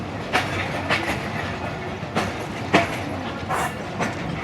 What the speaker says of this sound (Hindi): ट्रेन हमारी चुंडा रेलवे स्टेशन अप्रोच बना दी